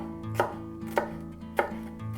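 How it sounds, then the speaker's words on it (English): A knife slices a pepper into thin strips on a cutting board, four crisp chopping strokes landing at a steady, unhurried pace over a low background hum, close and fairly quiet, with no speech. "Cut the pepper into thin slices."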